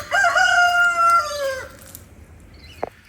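A rooster crows loudly and close by, one long drawn-out call that fades at the end, followed by a brief sharp sound.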